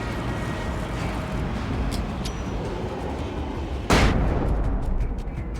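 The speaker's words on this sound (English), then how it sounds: "Maybe a flashbang might be better for this." A flashbang grenade goes off in the video game Alan Wake American Nightmare: one sudden, loud, broadband burst, followed by a sustained hiss and rumble over a steady background of game ambience.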